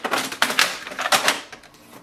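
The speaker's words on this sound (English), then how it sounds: "now install the paper tray" Paper tray being pushed into a Canon printer, a quick run of plastic clicks and rattling knocks, close and sharp, over about two seconds.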